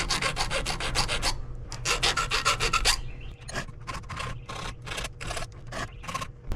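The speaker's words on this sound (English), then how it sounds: "I've got the chainsaw sharpened." Dense, rapid rasping strokes of a file sharpening the chain teeth of a NEO-TEC NH872 71cc chainsaw, continuous at first, then a pause and slower, separated strokes, fairly close.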